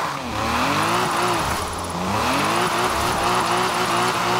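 A Subaru BRZ drifts in Forza Horizon 4, its engine droning loud and close while tires squeal in long, wavering howls that rise and fall as the car slides through the turn.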